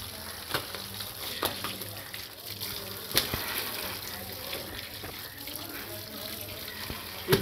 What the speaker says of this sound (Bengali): মাছগুলো ভালো করে ধুয়ে নেব